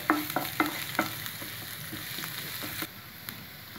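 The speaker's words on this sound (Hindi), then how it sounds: "तेल गर्म हो गया है अब हम इसमें पहले ये चॉप किया हुआ गार्लिक डालेंगे" Chopped garlic fries in hot oil with a steady sizzle. A few spoon clinks and stirring taps come early and then fade into a soft continuous hiss.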